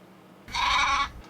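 A single loud animal bleat, sheep or goat, lasting under a second, close by and standing out over a quiet background.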